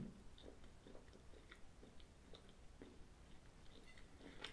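Someone chews a piece of Whittaker's creamy milk chocolate close to the microphone, a quiet, steady run of soft bites and wet mastication clicks in an otherwise hushed room.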